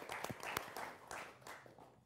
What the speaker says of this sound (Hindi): आपके लिए भी जोरदार तालियां